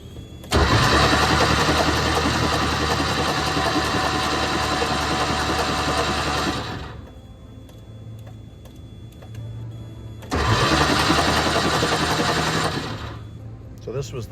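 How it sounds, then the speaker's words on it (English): The starter of a Porsche 914 cranks the engine for the first time in two long bursts, a loud, even whirring churn of about six seconds and then about three more, separated by a quieter pause with a low hum. "So this was the first attempt at turning it with the starter."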